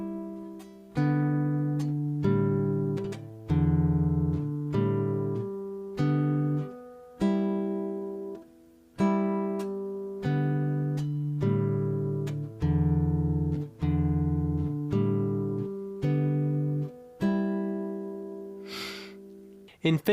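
Fingerstyle acoustic guitar plucked with thumb and index finger, two strings at a time, in a slow, even run of paired notes that ring out and fade between plucks.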